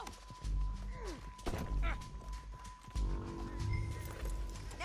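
Rhythmic hoofbeats of a galloping horse in Red Dead Redemption 2 thud steadily under scattered voices and a faint steady tone.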